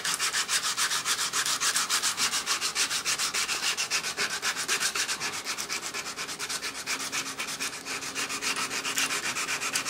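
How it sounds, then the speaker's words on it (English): Hand sanding a wooden handle for a Ka-Bar Potbelly knife with hand tools: fast, even back-and-forth scratching strokes, loud and close, continuing steadily without pause and with no voices. "you just sand away until you don't want to get below, once again, get below this line"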